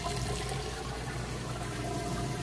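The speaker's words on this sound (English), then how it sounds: "it is draining the water out now" A Whirlpool HE washing machine drains water between wash and rinse cycles, producing a steady, continuous rushing and gurgling flow with a low pump hum, unbroken throughout.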